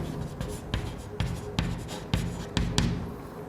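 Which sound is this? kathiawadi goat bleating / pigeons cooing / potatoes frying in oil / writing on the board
writing on the board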